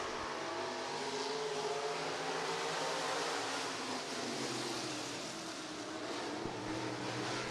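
Stock cars roar around a dirt oval at Boone County Raceway in a heat race, a dense, continuous wall of engine noise with layered tones from several cars, steady and loud throughout.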